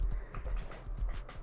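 Horse hooves clip-clop in the survival video game Rust, a quick, steady run of soft low thuds at a trot, faint and alone without talk.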